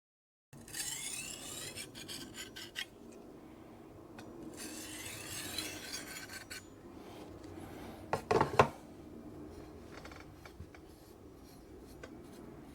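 Kitchen knife, a Chicago Cutlery blade, sharpened on a cheap 1000-grit diamond stone with alternating passes: a series of close, dry rasping strokes with no talking, plus a brief louder scrape near the end.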